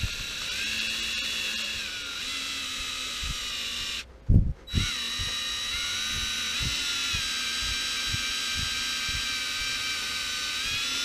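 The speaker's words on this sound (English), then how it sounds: "I'm going to pre-drill a little pilot hole to start" A power drill whines at a high steady pitch while boring a small pilot hole, running continuously for about four seconds, cutting out briefly with a sharp clunk, then spinning up again and running on, close and loud.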